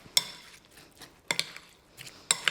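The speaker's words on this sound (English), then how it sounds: "But the more I stir it, the pinker it's going to become" Potatoes and beetroot are stirred gently in a bowl, with three soft clinks and scrapes of a utensil against the bowl at spaced intervals, faint and close.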